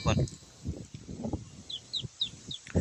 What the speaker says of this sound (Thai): เฮาเอาไก่น้อยใส่ไปทุกคน